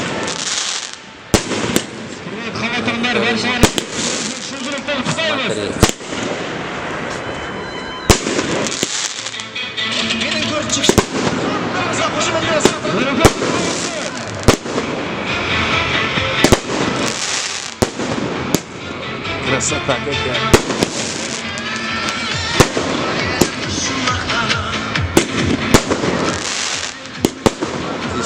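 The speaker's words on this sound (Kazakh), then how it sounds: "долгожданный салют." A festive Victory Day fireworks salute in Taraz bursts loudly in rapid, irregular bangs and crackles, with a dense rumbling wash between explosions; people talk briefly.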